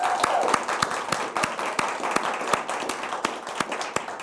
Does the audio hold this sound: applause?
yes